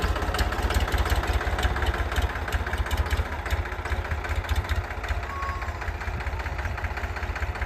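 A tractor stands parked at a farm and idles with a loud, steady, fast knocking pulse that carries on throughout, with no one talking.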